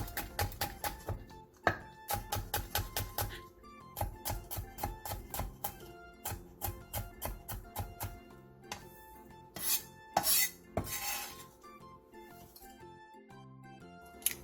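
Two Cheongyang chili peppers and one red chili pepper, halved lengthwise, being finely sliced with a knife on a board, making quick, steady rhythmic taps that come in runs with brief pauses.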